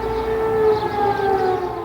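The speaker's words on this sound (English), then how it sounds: "the air raid siren sounded in Baghdad." An air raid siren in Baghdad in 2003, signalling the first airstrikes of the Iraq invasion, wails loud and steady, a sustained rising-and-falling tone with no voices present.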